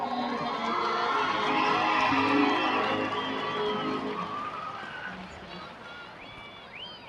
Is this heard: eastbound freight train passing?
no